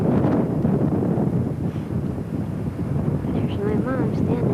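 Wind gusting outdoors in a London park near Kensington Palace, a steady loud rush buffeting the microphone throughout, with people talking over it.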